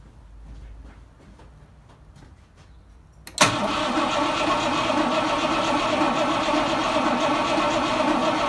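A 1968 Rover P5B V8 cranks and catches after a winter lay-up, a few quiet rattles giving way to a sudden loud start and then a steady, close, rumbling idle.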